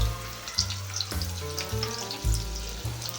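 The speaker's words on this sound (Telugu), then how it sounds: "ఇది కొంచెం రంగు మారేంత వరకు వేయించుకుందాం" Onions frying in two to three tablespoons of oil for chicken thokku biryani, a loud, close, continuous sizzle broken by periodic stirring scrapes of a spoon against the pan.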